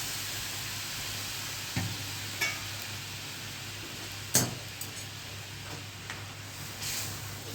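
Dal tempering sizzles steadily in hot oil with bay leaves, dried chillies, curry leaves and asafoetida, a continuous crackling hiss broken by a few sharper pops and clinks, with no talking.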